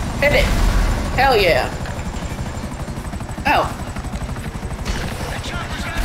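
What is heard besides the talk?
helicopter in the video game Grand Theft Auto V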